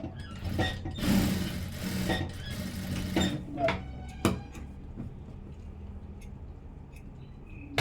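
A sewing machine stitches a blouse in short bursts of rapid mechanical whirring, separated by clicks and handling noises, with talk heard faintly now and then.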